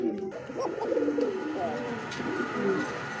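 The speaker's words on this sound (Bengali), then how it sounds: "চমৎকার একজন ড্যানিশ কবুতর" A Danish pigeon coos in low, throaty, repeated calls close by, with a voice talking in the background.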